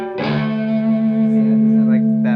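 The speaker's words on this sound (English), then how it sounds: "From there I go into a Zvex Distortion, which gives me more of my rather more of a clean, I would say kind of like an overdrive style sound" Electric guitar played through a Zvex Distortion pedal set for a mild overdrive tone, a single sustained chord ringing out close and loud with a slightly gritty edge.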